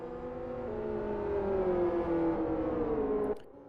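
Race car engine in the Live for Speed racing game during an endurance race at Kyoto, a steady droning whine with rising and falling pitch that cuts off abruptly near the end.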